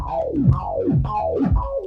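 A bass line runs through an Airwindows filter sweep set to super resonant, producing repeated swooping downward resonant sweeps, about four in under two seconds, loud and gnarly with no talk.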